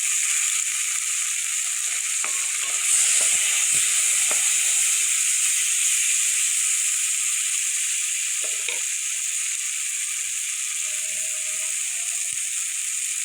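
Three green chillies hit hot oil in a pan with rohu fish and give off a steady, bright sizzle. A few light clinks and scrapes of stirring cut in over it, and no one speaks.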